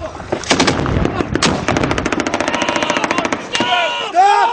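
Rapid gunfire from British Army 3 Para battle group in combat on Op Herrick 4, Afghanistan: loud close bursts of repeated shots in a fast rhythm, with shouted voices over the firing.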